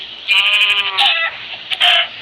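Minecraft farm animals, chickens, sheep and cows, make loud game sounds: clear bleats and calls in two close bursts against a quiet background.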